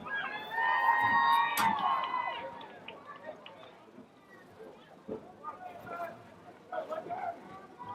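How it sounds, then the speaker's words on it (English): A home crowd at a youth basketball championship game cheers and shouts loudly at first, then the noise settles into scattered voices and shoe squeaks with a commentator talking over it. "we have a very good crowd here on the Lakers side"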